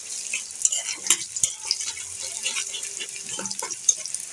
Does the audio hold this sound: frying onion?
yes